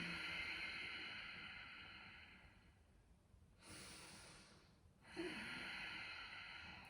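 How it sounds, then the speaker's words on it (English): Slow breathing in and out through the nose with a constricted throat during a postnatal yoga session, a soft, close, raspy airflow that comes in long, faint waves with a quiet gap between breaths. "as you breathe out through your nose, you can hear slightly tight and you can feel the breath at the back of your throat"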